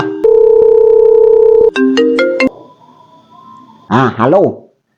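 A telephone rings: a long steady electronic tone, then a short run of stepped beeping notes. A voice follows afterward.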